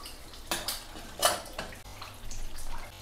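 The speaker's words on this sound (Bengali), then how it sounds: "আমি 5 মিনিট পর ঢাকনাটা খুললাম।" A metal lid clanks against a cooking pot of simmering chicken rezala, with a couple of sharp clatters and a rattling scrape, then the soft bubbling of the pot continues.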